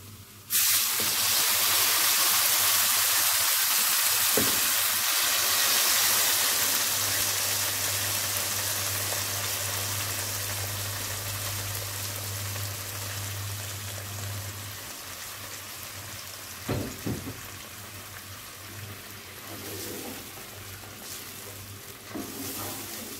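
Tomato sauce sizzles and simmers in a pan, a loud steady hiss that slowly fades over time, with a few stirring scrapes and clinks near the end.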